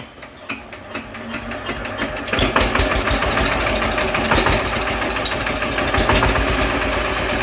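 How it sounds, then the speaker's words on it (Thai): A Kubota-style TF 120 diesel engine, brought in for low power and heavy smoke, runs steadily with a dense mechanical clatter and smooth gear whir, loud and close, with no one talking. "จากที่ฟังเสียงดูนะครับ เสียงเฟืองก็ยังนิ่มดี"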